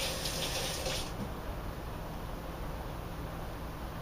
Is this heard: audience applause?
no